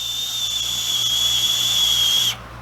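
An Artery Nugget GT, a heavy metal dual-battery vape with large airflow ports, gives off a steady, high, thin whistle as air is drawn through it. The tone stays up close and constant for about two seconds, then cuts off sharply.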